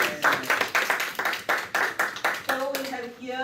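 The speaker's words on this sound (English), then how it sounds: "Give him a round of applause." Audience at a financial planning talk clapping in a steady rhythmic beat, about a dozen sharp claps in unison, close and moderately loud, then tapering off as a voice begins near the end.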